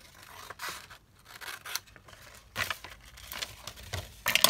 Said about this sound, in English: And then just cut it along here.